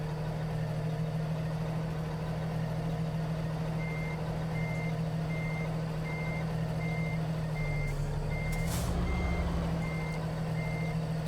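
Mack Anthem Legacy truck in a video game idling and creeping around the Miles City heavy haul yard, with a steady low engine drone and a repeating reversing beep alarm throughout, plus a brief louder burst near the end.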